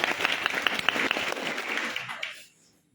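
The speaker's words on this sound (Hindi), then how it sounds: "जोरदार तालियां इनके लिए।" An audience at an IMC business meeting breaks into brisk, lively clapping that holds strong for about two seconds, then quickly fades and stops, leaving near silence.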